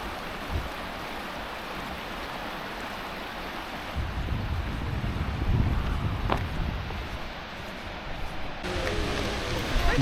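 Steady roaring rush of Seljalandsfoss waterfall in snowy Iceland mixed with gusty wind buffeting the microphone, continuous and fairly loud throughout.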